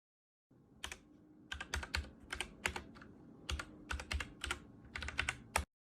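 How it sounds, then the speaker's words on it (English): Keys clack on a custom mechanical keyboard in quick, uneven bursts of crisp close strokes, with short pauses between runs, against an otherwise silent room with no talking. "Here's a little bit of a sound test on this keyboard."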